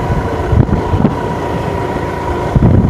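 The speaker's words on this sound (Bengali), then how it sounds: "এই জন্য একটু মোটর সাইকেল ঘুরতেছি" A motorcycle rides along roads in Rajshahi, its engine hum buried under loud, buffeting wind rushing across the microphone, with a few gusty bumps, no speech.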